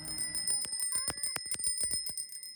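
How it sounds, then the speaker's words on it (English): Bicycle bells ring repeatedly and overlapping at a holiday jingle ride of more than 250 cyclists, a bright, rapid series of metallic dings from several bells close by. "bells are once again ringing merrily on high as more than 250 bicyclists from all over New England gathered"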